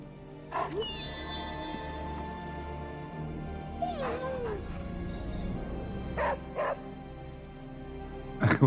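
A dog in the Marvel Midnight Suns video game gives a few soft yips and whimpering barks, spaced out and fairly faint over a steady low game soundtrack, with no talk.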